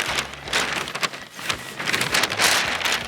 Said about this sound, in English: Nothing like doing this in the wind